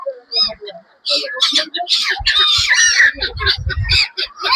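A group of fowl-like birds clucks and squawks close by in short, irregular bursts, mixed with people chatting on a road trip from Dwarka back toward Jamnagar.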